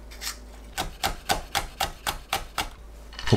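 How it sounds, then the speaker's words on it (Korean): A knife finely chopping Cheongyang chili peppers on a cutting board, about eight crisp, evenly spaced taps in a steady rhythm, close and clear with no talk. "청양고추는 작게 썰어주세요"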